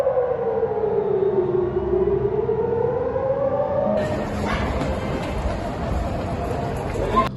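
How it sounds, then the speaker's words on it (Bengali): Air raid warning siren wailing in Tel Aviv during a missile attack, a loud drawn-out falling tone that gives way halfway through to a different high, steady electronic whine over rumbling background noise. "মিসাইল হামলার প্রভাবে তেল আবিবসহ মধ্যাঞ্চল ও অন্যান্য অঞ্চলে সতর্কতামূলক সাইরেন বেজে ওঠে"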